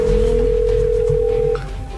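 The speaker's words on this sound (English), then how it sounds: "answer the phone!" A telephone rings with a steady electronic tone, loud and close, sounding continuously before cutting off near the end.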